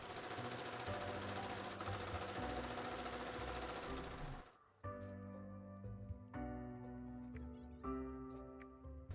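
A sewing machine top-stitches bias tape onto a dress, running in loud continuous bursts first, then shorter pulses of rapid stitching with brief pauses between.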